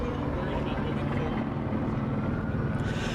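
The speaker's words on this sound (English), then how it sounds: "that is a helicopter" A steady, loud rumbling drone with low thrumming fills the clip, like a helicopter overhead, continuous and unchanging throughout.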